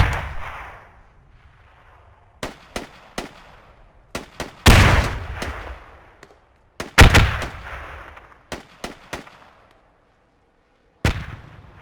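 Battlefield gunfire in an online multiplayer war game between Russian and American sides: scattered sharp shots and booming blasts, some close and loud, others fainter, coming singly and in quick pairs with quiet gaps.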